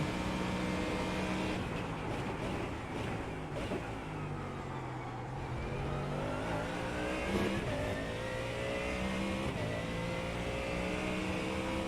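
A Ford Mustang GT3 race car engine in the iRacing game at Sebring drones loudly and continuously, its pitch climbing and falling through shifts and braking into corners.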